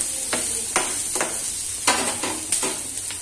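Kadai paneer masala frying in a pan, a steady sizzle broken by rhythmic scraping stirs about every half second to second, close and clear with no talking.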